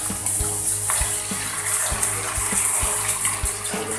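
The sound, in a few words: pouring yanang herbal juice into cooking pot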